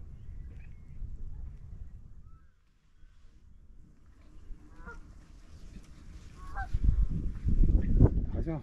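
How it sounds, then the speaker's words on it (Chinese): A flock of ducks calls beside Lake Okareka along the southern walkway, their scattered honking cries rising intermittently over a low rumble of wind and outdoor noise that swells toward the end. "好多鸭子，哎呦，好长好长！"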